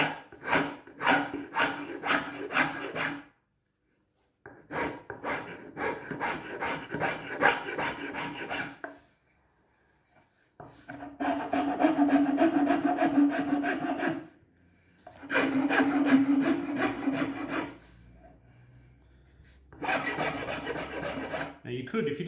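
A metal file rasps along a wooden ukulele neck from a kit build, working from fretboard to neck in five long bursts of steady back-and-forth strokes, separated by short pauses, close and moderately loud.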